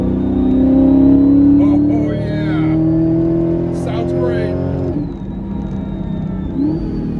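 A Procharged Corvette C8 engine, heard from inside the car while driving, revs with a loud, rising whine and throaty drone, then dips and settles as the revs shift.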